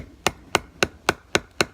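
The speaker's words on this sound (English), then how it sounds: "Let's try to hammer it in and do it again." Six sharp metallic hammer blows strike a bent knife blade in an even, quick rhythm, each a crisp close impact with a short ring, with no voices.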